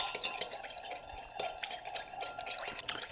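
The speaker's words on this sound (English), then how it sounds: "2 tablespoons of sugar, and 1 teaspoon of salt. I'm gonna mix it a little longer this time." Sugar and salt being stirred into pickling liquid for pickled onions and beets, a spoon clinking and scraping against the container in quick, irregular taps, close by with no talking.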